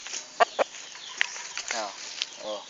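A derby-winning gamefowl rooster on a farm gives several short, sharp clucks and brief calls at close range, with intermittent talk nearby.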